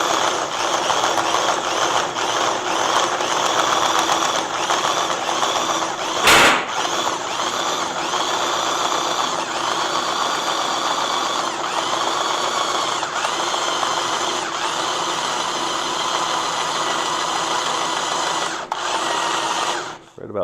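A drill bit bores through metal during a custom 1957 sand rail build, a loud continuous whining grind close by that pauses briefly once and then keeps cutting.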